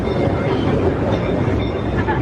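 A theme park train running in darkness at night, a steady rumbling roll with faint rhythmic clatter, continuous and fairly loud throughout.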